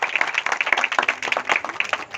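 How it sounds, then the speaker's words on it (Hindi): A church congregation claps together at a worship gathering, a quick, fairly dense burst of hand claps with uneven rhythm lasting a couple of seconds. "तालियां हो जाए जरा यीशु"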